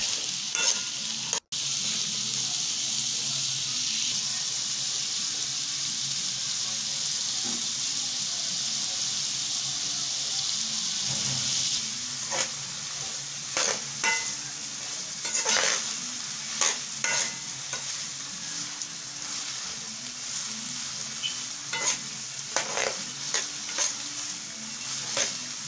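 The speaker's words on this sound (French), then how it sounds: "nous allons laisser cuire en laissant la marmite ouverte" Coconut chicken with vegetables, salt and water cooking in an open pot, giving a steady broadband sizzle and bubbling throughout, with intermittent stirring clatter and scrapes in the latter half.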